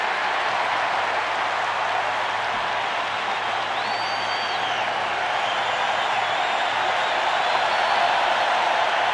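A dense, steady roar from a packed baseball stadium crowd at the 1991 World Series, Game 4, Twins at Braves, in the top of the ninth, sustained at an even loud level throughout with no breaks.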